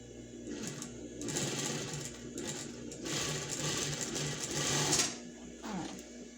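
A sewing machine runs straight stitches on scrap fabric for a pet bed in several short bursts with brief pauses, moderately close in a quiet room.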